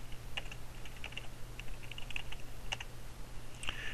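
Typing domain credentials on a computer keyboard, a steady run of close, crisp key clicks with uneven rhythm over a low constant hum, no voices.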